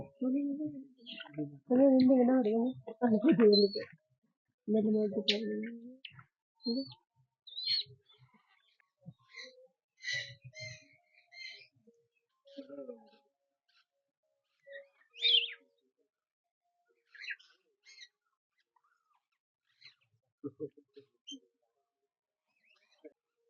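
Birds chirp and call in short scattered bursts at the Hantana bird sanctuary in Kandy, Sri Lanka, with a few lower voiced sounds early on and quiet gaps between calls, faint to moderate and nearby.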